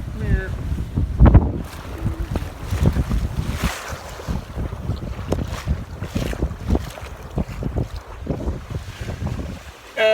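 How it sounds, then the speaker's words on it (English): A sailboat is under sail at sea, with gusty wind buffeting close by and water rushing and slapping against the hull in uneven surges. "we're obviously sailing right now"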